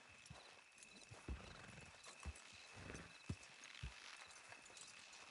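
Horse hooves clip-clopping in Red Dead Redemption 2, several heavy irregular thuds over a steady outdoor game ambience, with a horse whinnying briefly.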